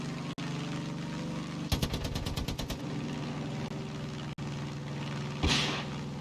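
A rapid burst of missiles firing in the video game Far Cry 5, about a dozen evenly spaced thumps in quick succession over a steady engine drone, followed by a later whooshing blast.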